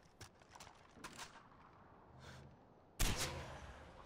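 A single sharp sniper rifle shot rings out in Far Cry 4, sudden and loud after a few faint clicks and soft background ambience.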